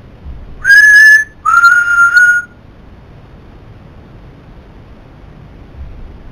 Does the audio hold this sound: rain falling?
no